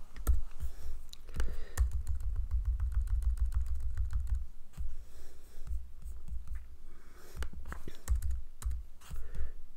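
Typing on a computer keyboard, with steady close clicks and bursts of keystrokes running throughout and no talk.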